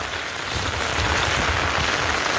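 Heavy rain driven by wind over flooded groundnut fields in Koylana village makes a dense, loud, unbroken hiss of drops pounding the surfaces nearby.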